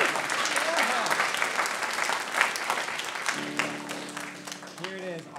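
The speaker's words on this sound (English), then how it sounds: "give a round of applause" Audience applause at a school beginning orchestra and band concert, dense steady clapping throughout, with sustained string tones entering near the end under the clapping.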